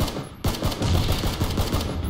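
Rapid automatic gunfire from PlayerUnknown's Battlegrounds crackles in a dense burst that holds for about two seconds after a brief quieter opening.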